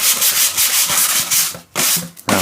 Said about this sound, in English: There we go, nicely abraded.